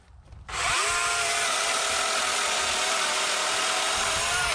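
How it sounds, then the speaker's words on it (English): A DeWalt 60V Flexvolt brushless chainsaw with a sharp blade cuts through wood, its motor snapping from quiet to a loud, steady high whine that holds without a break, close by. "Man, it's just eating through this stuff. This is a pretty strong saw."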